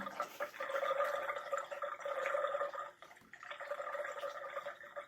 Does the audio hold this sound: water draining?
yes